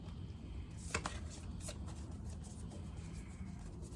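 Soft riffling and flicking of tarot cards being shuffled, a couple of sharper snaps near the start, over a low steady background hum.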